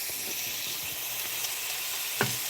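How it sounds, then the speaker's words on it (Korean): Cream pasta ingredients sizzling and frying in a pan, a steady close hiss with faint stirring clicks and one brief louder crackle near the end, no talking. "저는 크림 파스타 요리 중입니다"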